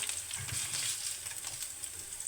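Red chilies frying in a little oil in a pan, a close continuous crackling sizzle with stirring scrapes and soft pops, fairly quiet and with no talk.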